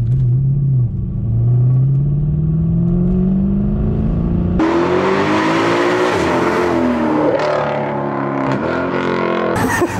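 A Mercedes C63 Black Series engine drones loudly from inside the car as it is driven on the road, rising steadily in pitch, then shifting into a rougher, busier roar with changing revs.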